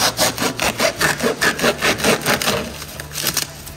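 Hand sawing through the material of a Formula 4 racing seat mould, a steady back-and-forth rasping stroke about three per second, close and loud, with no talk.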